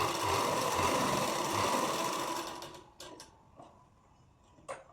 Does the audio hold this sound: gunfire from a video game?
no